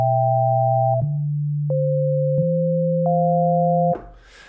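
Arturia Pigments 4 software synth playing its default basic waveform patch: steady pure tones holding and stepping between a few pitches, clean and sustained, alone, ending with a brief noisy release.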